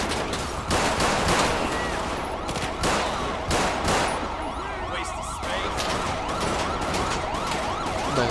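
Police sirens in the video game GTA 5 wail steadily in the background while sharp gunshots crack repeatedly over them, loud and busy throughout.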